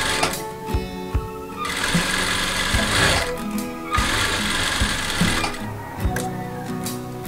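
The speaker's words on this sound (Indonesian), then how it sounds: "Dan kita kasih jahit dobol di bagian bawah dengan cara sedikit ditarik ya teman-teman." Sewing machine running a double stitch along a rolled hem on a garment: loud, close, fast mechanical chatter coming in several sustained bursts separated by short pauses.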